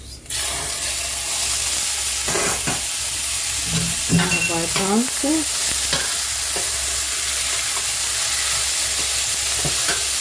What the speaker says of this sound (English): So now we're gonna add the garbanzos.